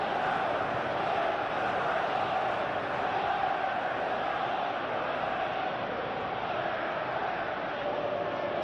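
Stadium crowd noise from the PES 21 football game during a simulated Chelsea versus Tottenham Hotspur Premier League match, a dense steady roar of massed voices that holds at an even level throughout.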